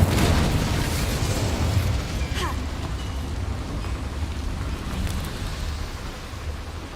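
Incendio fire spell cast in Hogwarts Legacy, a steady roaring, crackling burst with deep rumble that sustains loudly before slowly easing off.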